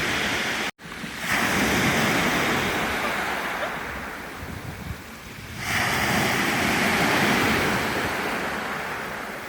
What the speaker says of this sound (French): Elles étaient vachement fortes ces vagues.